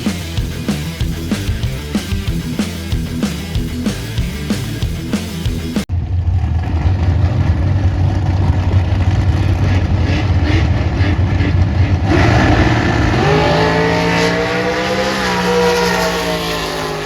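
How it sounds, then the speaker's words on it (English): A Fox Body Mustang at a drag strip: a loud rhythmic lumpy idle for several seconds, then a sustained roaring engine drone that rises in pitch as it revs up, close and alone without voices. "Gonna make the old first pass in this car, see what happens."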